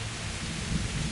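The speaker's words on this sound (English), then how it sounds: "Thunder!" Thunder rumbles through a heavy rainstorm in the video game Kingdom Come, a dense, loud, continuous roar of rain with a low rolling swell.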